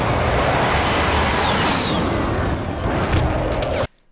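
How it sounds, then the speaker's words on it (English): Airstrike explosions in Call of Duty Warzone, a dense, roaring wall of booms and rumbling blasts with a passing whine, loud and continuous before cutting off abruptly. "He sees that the airstrike's coming in."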